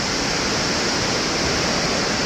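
The 74-metre Thomson's Falls at Nyahururu, Kenya, gives a dense, steady roar of falling water, loud and unbroken, with no voices.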